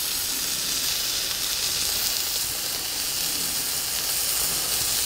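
Bacon sizzling on a Blackstone griddle, a steady, dense hiss that runs unbroken at close range with no talking over it.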